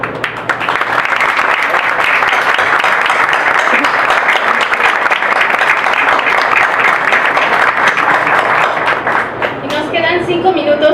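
Loud, steady applause from an audience at a book presentation for a Spanish edition of Walt Whitman's novel, dense clapping holding evenly throughout before thinning out at the very end.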